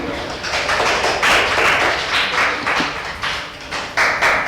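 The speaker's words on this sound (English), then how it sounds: "A big round of applause for them." An audience at a school quiz competition claps for the contestants in uneven bursts of applause that swell and fade, with a voice speaking through it.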